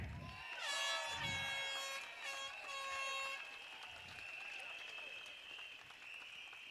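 Applause from a stadium political rally crowd mixed with blaring air horns and a shrill whistle-like tone, a busy, loud outdoor din with voices shouting underneath.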